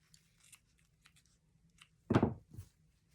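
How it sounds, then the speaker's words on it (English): Scissors trimming excess tulle on a small felt and fabric angel ornament, one close, crisp snipping cut after faint handling rustles in a quiet room. "And I'll trim the tulle."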